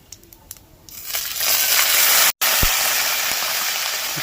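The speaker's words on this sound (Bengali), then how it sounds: "দেখো চটপট আওয়াজ হচ্ছে মানে ওরা রেডি হয়ে গেছে" Whole cumin seeds and spices crackle in hot oil in a pan as a curry of potatoes and winter vegetables is cooked, a loud sustained hissing sizzle rising after a second and filling the rest of the time, without talk.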